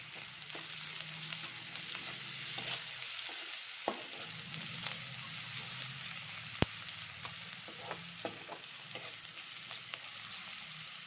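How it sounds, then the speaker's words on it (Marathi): Onion frying with salt in a pan, a soft steady sizzle with occasional stirring clicks and light scrapes, fairly quiet and close. "थोडं मीठ घालू लगेच, म्हणजे कांदा फास्ट करते, ब्राऊन होऊ द्यायचा थोडासा"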